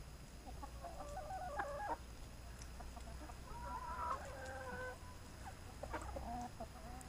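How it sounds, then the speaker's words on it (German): A white Sussex hen clucks in short, soft bursts spaced a second or two apart, fairly close, over a steady low outdoor rumble on a farm, with no one talking. "Die weiße Sussex-Henne da, die steckt den Kopf da gleich rein."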